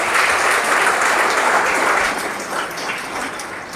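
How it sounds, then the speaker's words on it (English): Audience applauding steadily at the inauguration of the Bethany Educational Society's platinum jubilee at Bethany School in Guwahati, a dense, even wash of many hands that eases slightly toward the end. "Let us give them a good round of applause."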